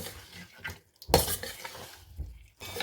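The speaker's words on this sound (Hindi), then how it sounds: "फ़िश को हम मसाले के साथ अच्छे से भून लेंगे।" Khagga fish being fried with masala in a pot, heard as intermittent close stirring knocks and scrapes of a utensil against the pot, with one sharp clattering hit midway and short quiet gaps between.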